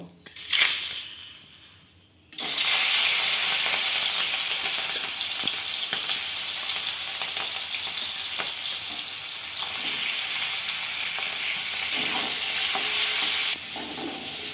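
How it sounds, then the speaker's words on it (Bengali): Prawns drop into hot mustard oil in a wok, bursting into a loud, dense, continuous sizzle that holds steady after a short quiet lead-in, with faint stirring clicks throughout. "এরপর আমি চিংড়ি মাছগুলো ভেজে নেব"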